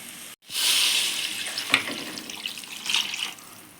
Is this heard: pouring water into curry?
yes